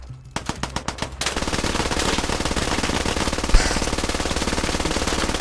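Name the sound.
gunfire in the video game Squad, Favelas mod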